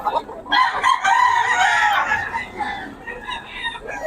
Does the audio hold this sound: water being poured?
no